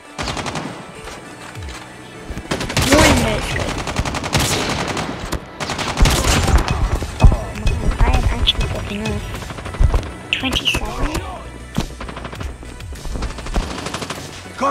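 Call of Duty Mobile combat erupts in loud bursts of automatic gunfire and scattered shots, with a player talking over the chaotic firefight.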